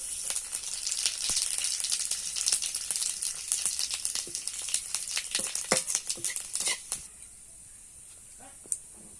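White cumin seeds hitting hot oil in a pan, a fairly quiet, steady crackling sizzle with dense popping that thins out and fades to near silence at the end.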